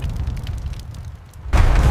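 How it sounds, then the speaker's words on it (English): A great siege cannon firing: a low rumbling build-up, then a sudden heavy, thunderous boom near the end that sounds loud and close. "The siege began with a thunderous roar that shook the very foundations of the earth as the great cannon fired."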